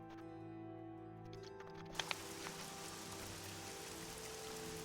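Steady rain falls with a broad, even hiss and a couple of brief drips near the start, over a faint low hum, with no talking.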